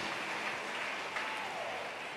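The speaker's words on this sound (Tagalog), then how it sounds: "Isang malakas na palakpak para sa ating mabait na Diyos." A church congregation at a preaching service gives loud, sustained applause, a dense, even wash of clapping that fills the whole short stretch without a break.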